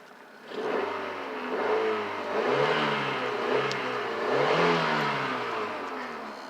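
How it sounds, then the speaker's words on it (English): A cheap used car's engine revs up and down in several swells, a steady mid-pitched roar rising and falling, close by with no talking. "Revs up, sounds really good."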